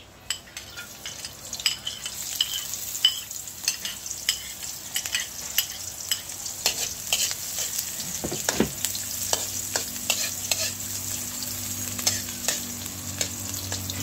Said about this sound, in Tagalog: Ilalagay ko na po itong bawang at sibuyas